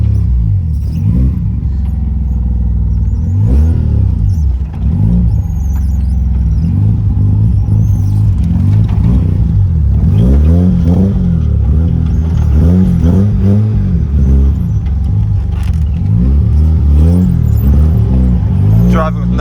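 Tuned BMW E36 with a swapped rotary engine revs hard and close, its loud droning rising and falling through repeated throttle blips over a constant rumble.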